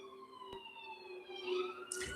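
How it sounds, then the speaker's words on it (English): A police siren wails in the distance, a faint steady tone with rising and falling pitch over a quiet background. "Hear them sirens?"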